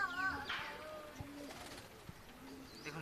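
Giribaz pigeons coo softly with a few chirps mixed in, against a steady outdoor background hiss.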